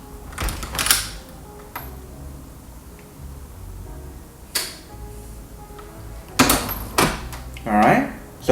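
Door opened beside a SwitchBot motion sensor paired with a button pusher, giving a few knocks and clicks, then a cluster of louder clatters and a short mechanical whir near the end, close by in a quiet room.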